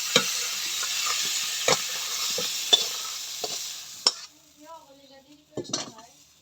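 Vegetables stir-fried in a pan of oil hiss with a steady sizzle, punctuated by sharp scrapes and clinks of a metal spatula against the pan, before the frying stops and a voice speaks briefly.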